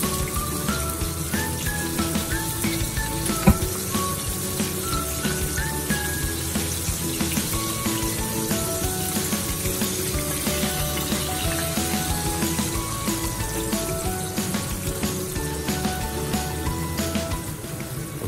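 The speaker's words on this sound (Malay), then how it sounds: "kita telah pun siap menggoreng sotong kita" Battered scissor-cut squid deep-frying in hot oil, night-market style, gives a dense, continuous crackling sizzle like heavy rain, steady throughout with faint music underneath.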